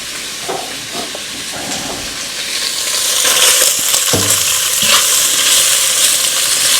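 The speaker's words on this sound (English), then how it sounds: "I'm going to brown this kielbasa off" Kielbasa browning in a little oil in a pan on a range, a loud close sizzle and hiss that swells partway through, with a few clicks and scrapes of stirring and no talking.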